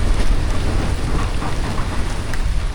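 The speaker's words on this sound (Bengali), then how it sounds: "কাল বৈশাখী ঝড় শুরু হয়েছে" Kalbaishakhi storm on a remote river island char in Bangladesh: heavy rain pours steadily with strong wind and a low rumble of thunder throughout, loud and close, with no voices.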